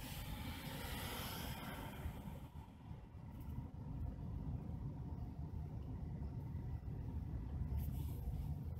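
Passenger cars of the 611 steam train rolling past, a continuous low rumble and rattle of wheels on track, steady and fairly close, with no talking.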